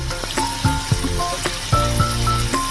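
Whey water from split milk, about two spoonfuls, is added to a frying spice paste, which bursts into loud, close sizzling with stirring scrapes and sharp crackling spikes throughout.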